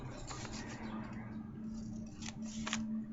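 Scissors snipping through a paper soap box template, a quick series of close, crisp cuts at a quiet level.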